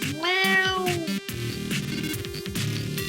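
A house cat meows loudly and close up, a drawn-out, wavering call followed by several shorter, chirpy meows in quick succession, with no talking over it.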